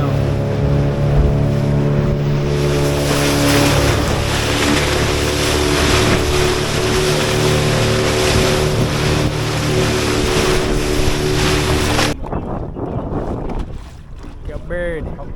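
A motorboat running across open water off a Jamaican island, a loud, steady engine drone with wind buffeting the microphone and rushing water, before it drops to quieter water and wind noise near the end.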